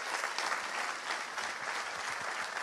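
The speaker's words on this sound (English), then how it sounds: "that's actually another round of applause for our final panel" An audience applauds a panel at a conference, dense sustained clapping from a nearby crowd, with no talking over it.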